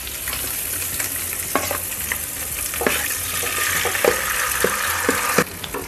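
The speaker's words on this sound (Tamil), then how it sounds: "இப்போ இந்த எண்ணெயில் நம்ம இந்த வச்சுருக்க சிக்கனை பூரா வணக்கணும்." Chicken pieces frying in oil in a pan over low flame, a steady loud crackling sizzle with occasional scraping stirs, close up and uninterrupted by any voice.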